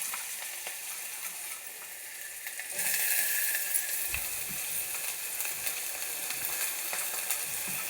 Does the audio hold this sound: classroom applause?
no